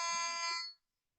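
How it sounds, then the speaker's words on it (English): Groundwater dipper probe beeping as it touches water, a single bright, loud electronic tone held for about two thirds of a second before cutting off into silence. "when it goes in water, it beeps and makes a light."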